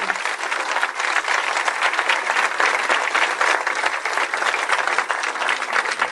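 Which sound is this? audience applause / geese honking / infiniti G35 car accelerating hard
audience applause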